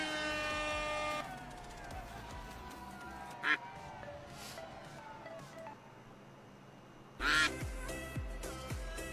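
Ducks in a video game quack in two short, bright bursts among layered electronic game tones and a low background hum, fairly faint overall.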